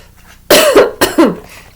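Two sharp, close coughs in quick succession, the first harsh and drawn out, the second shorter, followed by quiet.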